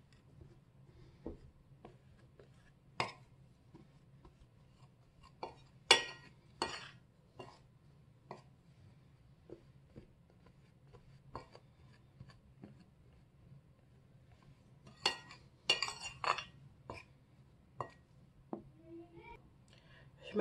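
Cocoa being mixed into sablé dough in a bowl, heard as soft scraping with scattered utensil clicks and taps against the bowl over a quiet background hum.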